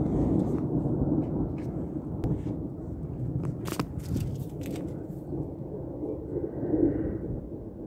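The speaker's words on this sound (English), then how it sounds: "Just getting a little bit of rumbles in the sky, some thunder" Distant thunder rumbles low and steady across the sky during an outdoor summer storm, with a few sharper crackling bursts partway through and no voices.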